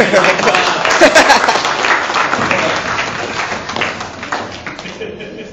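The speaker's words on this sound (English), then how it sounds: "Let's give them a big round of applause." A crowd at a family reunion applauds loudly and steadily, dense clapping that gradually thins toward the end, with some voices mixed in.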